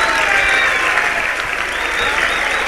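A large audience at a Hindi poetry recital claps loudly and continuously, a dense, even wash of applause with faint cheering.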